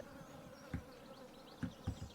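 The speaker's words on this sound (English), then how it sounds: "hearing the buzz of the flies" Flies buzzing around cows on a Stardew Valley farm in summer, a steady faint drone with a few louder soft thumps and rustles breaking through.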